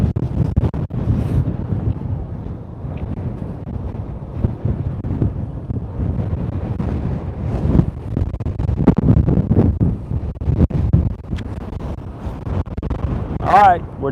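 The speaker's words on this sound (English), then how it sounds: "we're definitely seeing some strong winds" Steady strong wind roars and buffets the microphone outdoors at SpaceX Starbase in Boca Chica, Texas, loud and continuous with surging gusts, and a faint brief whistling tone near the end.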